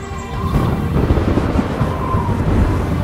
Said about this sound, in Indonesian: Badai dahsyat mengamuk malam itu dan Falky bertekad untuk menemukan harta karun itu tergeletak di tengah hujan dan juga kilat